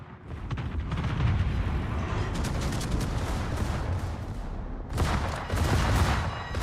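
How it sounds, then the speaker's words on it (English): Torpedo and battle sounds in the naval video game World of Warships: a loud, rumbling roar with crackling bursts, a surge that fades then swells again near the end. "I hear torpedoes"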